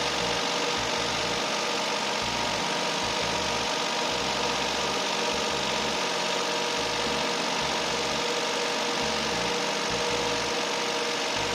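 A Suzuki Jimny JB64W engine idles steadily after a battery replacement, a constant close rumble with faint mechanical vibration throughout, no voices.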